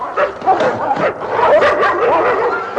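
Starving dogs, unfed for days, bark and yip repeatedly in a loud close chorus, with whimpering yelps mixed among the overlapping calls.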